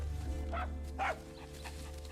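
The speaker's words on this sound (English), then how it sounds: "Oh, look at that little puppy." A small dog gives a couple of short, soft yips close by, with a low steady hum underneath.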